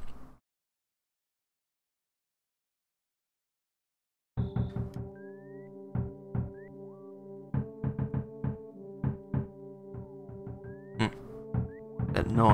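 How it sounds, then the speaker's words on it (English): Knocking at a door in the video game EarthBound, heard as a run of sharp, evenly paced knocks over a jazzy game music loop after a short silence. "Someone's knocking at the door."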